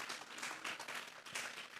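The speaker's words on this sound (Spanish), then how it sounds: "Denme un fuerte aplauso pues al Señor." Faint applause from a congregation at a Sunday church service, a steady patter of clapping heard from a distance, with some swelling and fading over a couple of seconds.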